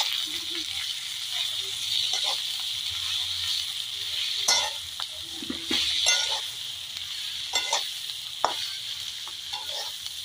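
Green chilies with salt cooking in a pan, a steady soft sizzle and frying hiss with occasional stirring scrapes and clinks, close and continuous with no talking.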